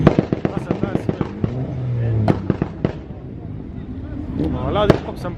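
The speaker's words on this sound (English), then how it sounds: "Oh, allow these pops and bangs, man." Rapid sharp exhaust pops and bangs from a car at a large UK car meet, a quick burst of loud crackles followed by scattered single bangs, with people talking nearby and engine revving underneath.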